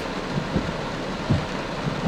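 Steady rain fills the background as a constant broadband hiss, with a few soft low thuds scattered through it and no talking.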